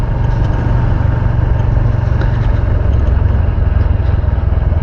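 A highway motorcycle's engine hums loudly and steadily while riding on a bridge, with a constant low rumble and wind-like roar and no break throughout.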